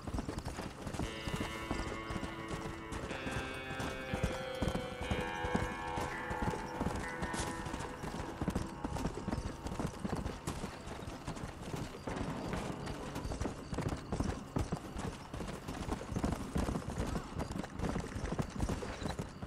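A horse's hooves clip-clop at a steady trot in the Red Dead Redemption video game, close and continuous for the full stretch, with occasional brief tonal game sounds layered over the rhythm.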